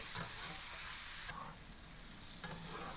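Meat, potatoes and vegetables frying in a pan give off a steady, quiet sizzle, broken by occasional stirring scrapes.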